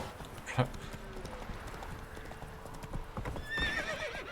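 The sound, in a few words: horse hooves clip-clopping, from a video game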